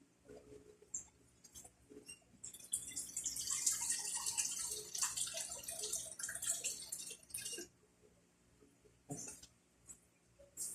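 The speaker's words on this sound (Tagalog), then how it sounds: "Kaya dadagdagan ko pa siya ng tubig." Water is added to a coconut (buko) chocolate pinuso mixture with a burst of pouring, splashing and dripping that runs for about five seconds in the middle. Quieter drips and small clatters come before and after.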